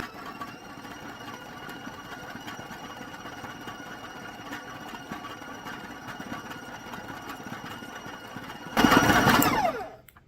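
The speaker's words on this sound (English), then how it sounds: "Let's mix up some more." An electric mixer beats brown sugar brownie batter with chocolate chips in a steady, close motor whir that swells louder for a moment just before it cuts off.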